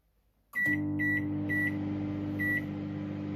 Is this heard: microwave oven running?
yes